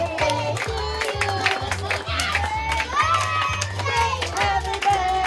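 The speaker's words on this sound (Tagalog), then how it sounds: "nalagyan natin na malakas sa palakpak!" Guests at a child's seventh birthday party in Cavite clap and cheer in a steady, loud rhythm, with children's shouts and voices mixed in over music throughout.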